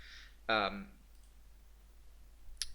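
A single sharp computer mouse click near the end, faint and close, following a short burst of a voice in an otherwise quiet room.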